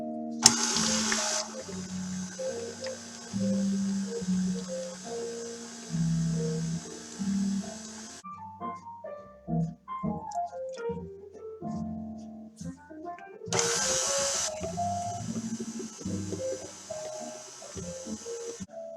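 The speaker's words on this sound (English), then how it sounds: "So let's get the mixer going here. And we'll give that a mix." An electric mixer whirs through butter and peanut butter in a mixing bowl, a steady motor buzz that cuts out midway, then clatters and bumps before the motor starts again for a shorter run.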